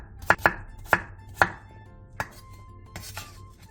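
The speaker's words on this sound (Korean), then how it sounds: "감자 5개를 한 입에 먹기 좋은 크기로 잘라주세요." A knife chops potatoes into bite-sized pieces on a cutting board, with several sharp, close thuds at uneven intervals and no talking.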